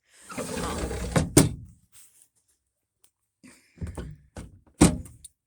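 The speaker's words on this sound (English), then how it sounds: "Is this a drawer? Yes, this is a drawer. Wow, that's a big drawer." A large drawer in a video game slides open with a dull scraping rumble and a pair of heavy thunks, then a second slide and thunk follow after a short pause.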